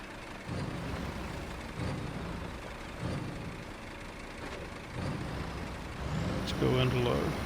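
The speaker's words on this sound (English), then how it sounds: "This truck does not want to climb up that little hill there." A truck engine in SnowRunner labors uphill in repeated rough surges and drones, low and heavy, with a faint talking voice and a brief higher tone near the end.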